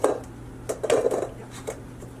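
Purple sweet potato pie filling being mixed and blended in a bowl, a few soft clattering scrapes and knocks in short bursts, close and fairly quiet.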